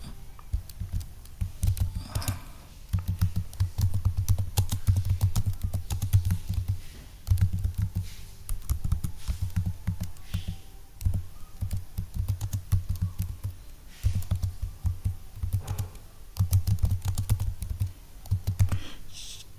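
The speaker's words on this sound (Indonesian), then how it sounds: "Oke, saya ketik" Close, brisk typing on a computer keyboard comes in bursts of rapid key clicks separated by short pauses, steady and alone without any voice.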